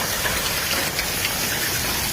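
Heavy rain pouring hard during a violent hailstorm in southern France, a dense, steady hiss filling the whole stretch with no break and no voices.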